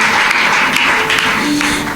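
Congregation clapping in praise of the Lord at a French-speaking church service, a steady dense wash of applause held for the whole moment, loud and close.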